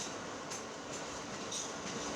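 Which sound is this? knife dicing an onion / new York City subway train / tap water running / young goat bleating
new York City subway train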